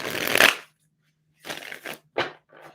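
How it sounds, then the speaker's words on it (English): Tarot cards being shuffled up close: one long riffling burst, a pause, then several shorter rustling shuffles in quick succession. "I'm going to just give it a good couple shuffles here"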